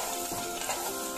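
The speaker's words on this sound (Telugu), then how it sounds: "ఇలా బాగా కలిపెట్టేసుకోవాలి" Carrot halwa with sugar stirred in a pan, a steady sizzle with soft scraping strokes, close and continuous.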